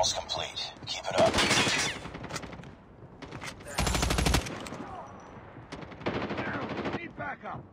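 Rapid bursts of automatic gunfire in the mobile shooter game Call of Duty Mobile, several loud rattling volleys separated by short gaps, with softer game sounds in between.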